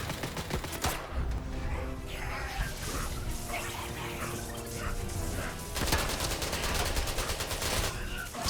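Gunfire in the video game Atomfall: dense bursts of rapid shots crackle almost continuously, with a brief lull and then another intense volley, loud and close amid clattering debris.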